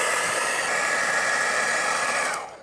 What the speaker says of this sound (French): On met en route le sèche-cheveux.